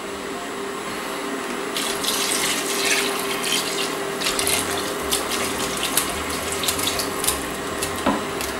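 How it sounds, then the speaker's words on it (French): Vegetable broth poured into a stockpot of chopped courgettes and spices for a green curry courgette soup, a steady close splashing pour with liquid gurgling and bubbling, no talk. "On va ajouter maintenant, bien entendu, le bouillon de légumes."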